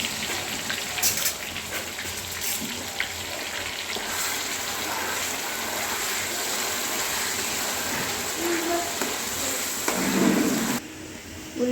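Onion paste frying on low heat in a pan while being stirred for a chicken gravy curry, a steady sizzling hiss with occasional scraping and clinks from the stirring, fairly even throughout before cutting off near the end.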